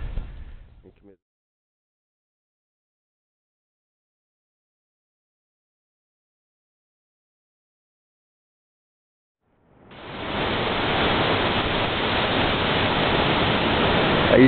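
Ocean waves at a beach at sunrise, heard as a loud, steady broadband surf wash that rises in after a long silence and holds without talk for the last few seconds.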